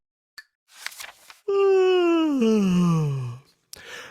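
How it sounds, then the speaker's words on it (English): A long, loud yawn that drawls downward in pitch for about two seconds, clearly performed by a voice, with soft breaths before and a brief sound after. "He stretched and yawned loudly."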